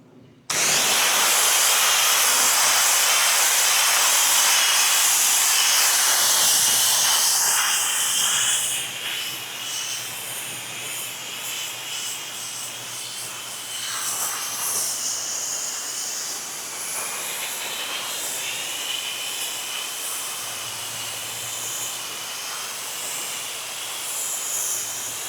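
A pressure washer rinses a dirty splash pad at a vacation home, making a steady loud hissing spray that runs throughout and shifts in tone as the jet moves across the surface.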